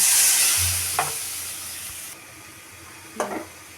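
Ground spice paste with fried onions hisses loudly in a hot pan at first, then fades to a quieter sizzle, with a couple of brief stirring scrapes up close.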